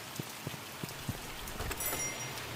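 Rain falling in the horror video game The Mortuary Assistant, a steady soft patter with scattered sharper drop taps, faint and alone with no voices.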